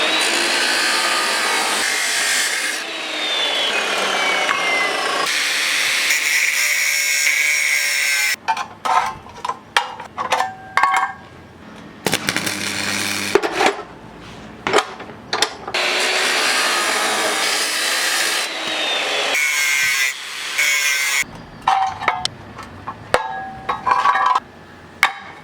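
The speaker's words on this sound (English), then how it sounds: "When we put this in the saw, it sits up where we want it to sit" A power saw cuts steel control arm parts for a drifting car, running in long loud grinding passes broken by short gaps and clunks as pieces are repositioned, with no talking.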